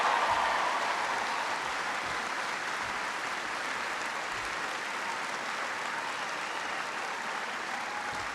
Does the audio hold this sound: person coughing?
no